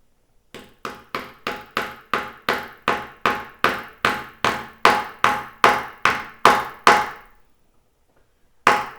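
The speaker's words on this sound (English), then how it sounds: "I suppose you could use a normal hammer to tap these in place." About seventeen sharp, evenly spaced hammer taps driving wheel weights onto a metal rim, loud and close, then a short pause and one final tap.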